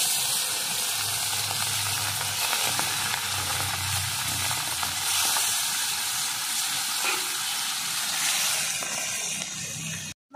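Small American rui fish, rubbed with salt and turmeric, fry in very hot oil in a wok, a dense continuous hissing sizzle holding steady and close for several seconds before cutting off abruptly.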